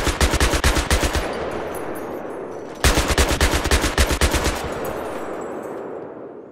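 Vehicle-mounted gun on a land vehicle such as a buggy in Battlefield 3 firing two loud rapid bursts, each a rhythmic string of heavy shots roughly two seconds long, with a rumbling echo trailing off after each burst.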